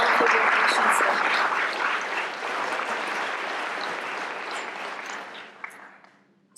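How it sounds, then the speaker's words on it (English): Audience applause at a mindfulness and mental health event, honouring the organiser Valerie: steady, full clapping from a crowd that gradually thins and fades out. "can we just give Valerie a round of applause for this event"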